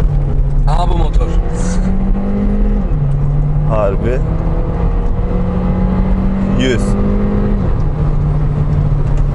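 A VW Polo 1.4 TSI 150 PS ACT Blue GT accelerates hard, its engine note climbing in pitch through several gear changes and staying loud throughout, with people talking over it inside the car.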